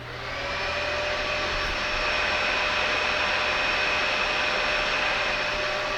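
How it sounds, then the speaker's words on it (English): A household vacuum cleaner runs steadily, a broad, even rushing hum with a thin high whine that ramps up at the start and then holds constant, with no voices. "let's turn on a household vacuum to establish a baseline"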